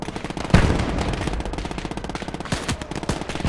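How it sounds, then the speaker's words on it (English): Rapid machine-gun bursts and heavy artillery fire rattle loudly and continuously in the World War II game Gates of Hell, with a sharp boom near the start and dense overlapping shots. "Enemy artillery."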